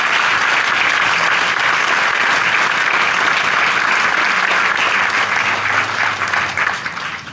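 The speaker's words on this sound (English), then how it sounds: "if we could give them a round of applause" Loud, sustained applause from an audience fills the room without a break, tapering slightly toward the end.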